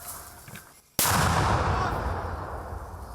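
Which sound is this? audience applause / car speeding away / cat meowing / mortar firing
mortar firing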